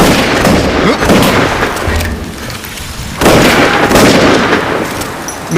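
Heavy gunfire and booming blasts in a dubbed Korean monster film scene, dense bursts that dip briefly mid-way then surge back loud, with little talk.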